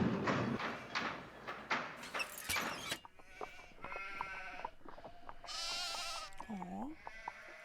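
Sheep in a Nancy Drew video game bleat several times in the latter half, clear wavering cries in a row, following a stretch of noisy clattering bursts.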